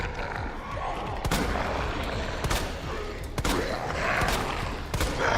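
Gunfire in the video game Resident Evil 2, with several sharp shots at intervals of roughly a second over a dense, rumbling game soundscape, loud and close.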